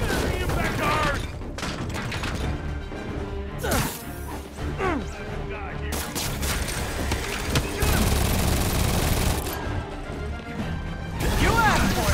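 Enemy gunfire in Marvel's Spider-Man Remastered during a heist, loud bursts of shots, crashes and impacts coming in irregular clusters amid busy combat noise.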